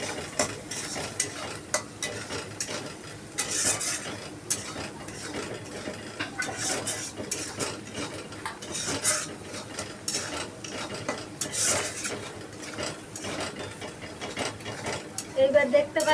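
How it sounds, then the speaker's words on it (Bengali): Chopped green chilli sizzles in a hot pan under repeated stirring, with rhythmic scraping and clattering of the spoon against the pan throughout and a steady frying hiss beneath. "তারপরে লঙ্কাটা একটু ভাজা ভাজা হয়ে গেলে তারপরে দেবো টমেটো কুচি।"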